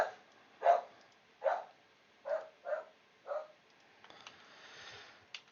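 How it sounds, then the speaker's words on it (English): A pet dog barks six times in a steady run, each bark fairly close and distinct with short gaps between, followed by quieter household rustling. "that's my dog going ballistic for something"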